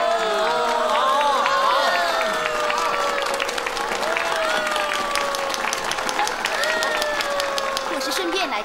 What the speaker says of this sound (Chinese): 我们大家呢鼓掌欢迎一下，好不好？